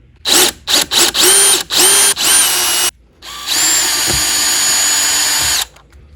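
Power drill backing out a long, roughly three-inch lock screw from an Andersen sliding glass door latch: several short whirring bursts, then one long steady run, close and loud with no talk.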